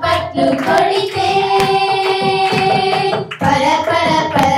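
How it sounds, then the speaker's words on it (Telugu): Small hands clapping along to a sung worship song about Jesus, steady claps mixed under loud voices and instruments. "నా చిన్ని చేతులు యేసయ్యకై చప్పట్లు కొడితే"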